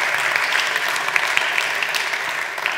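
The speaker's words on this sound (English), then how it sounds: "a clap for my lovely assistant so he doesn't feel so awkward" An audience at a science slam claps steadily, a continuous dense patter of many hands at moderate loudness with no voices standing out.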